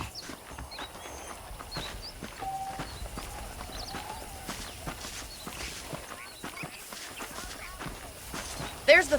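Horse hooves clip-clop at a walking pace in the Red Dead Redemption video game, a steady stream of soft, nearby hoofbeats running under spoken dialogue.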